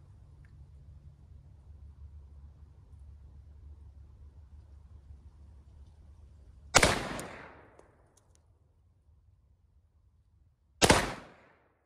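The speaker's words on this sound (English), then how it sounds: "I'm gonna shoot the same dot. We're twice as far, so we're about 14 yards right now." Two loud, sharp shots from a Glock 40 pistol chambered in 10mm, fired outdoors at 14 yards, spaced about four seconds apart, each with a quick decaying tail over a low steady rumble.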